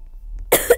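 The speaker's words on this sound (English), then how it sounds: "I seriously need to, like, stop coughing" Two quick, close coughs after a brief silence, sharp and loud, the second shorter than the first.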